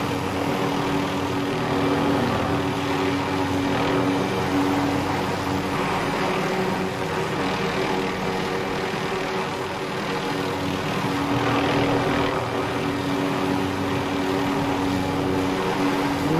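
Helicopter in Call of Duty Warzone flying steadily with a continuous, loud engine and rotor drone, unbroken for the whole stretch, with no talk over it.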